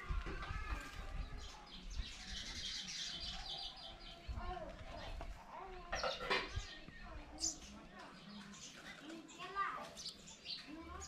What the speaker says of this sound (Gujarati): જો ચકલીઓ કેવી ચીચી બોલે છે, ગોતે છે.